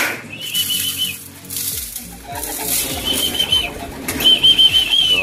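Pigeons at a loft flapping their wings, bursts of fluttering wingbeats close by with a thin whistling tone and a few soft coos in the background.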